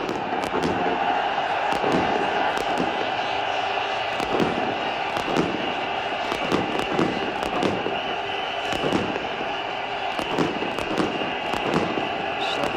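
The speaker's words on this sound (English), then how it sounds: "Nerve-wracking to hear guns going off. In fact, it's flares." Flares go off in a cricket stadium crowd at a 1999 World Cup match, a loud steady crackle of repeated bangs that pops continuously over the roar of the spectators.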